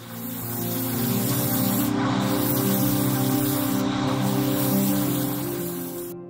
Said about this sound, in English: I started painting them according to the instructions with my airbrush.